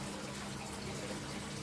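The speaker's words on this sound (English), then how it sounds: "So that water will now start very fast flooding out of here, draining out" Water rushes and gushes steadily out of a small plastic bell siphon in a school aquaponics setup, a continuous close splashing flow that holds at an even level for the whole stretch.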